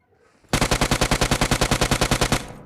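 A loud automatic weapon in a battle royale video game rattles off a fast burst of about twenty evenly spaced shots lasting roughly two seconds, close and alone after a brief quiet lead-in.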